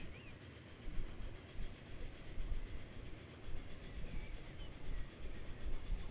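Freight trains running in the rail simulation game Transport Fever 2 produce a steady, dense rolling rumble with faint rhythmic rail clatter that continues without a break and without any voices.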